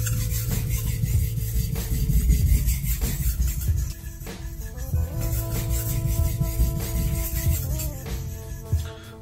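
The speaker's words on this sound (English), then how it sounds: "So different stone, same technique, find the angle again and just polish out the 1000 grit scratches from your previous session." Steady back-and-forth rasping of a single bevel knife being polished on a whetstone, close and continuous, with rhythmic strokes and brief pauses.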